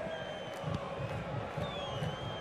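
Stadium crowd in FIFA 21 during a Los Angeles FC v FC Dallas friendly, a continuous distant roar of cheering and chanting with faint whistles, steady and moderately loud throughout.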